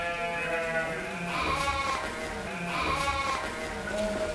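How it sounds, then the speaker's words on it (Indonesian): Several F1 crossbred sheep bleat on a farm stocked with Dorper and Awassi breeds, their overlapping calls rising and falling repeatedly at close range amid a busy pen atmosphere. "kita akan langsung lihat stok domba F1-nya di Ayudhya Farm ini ya."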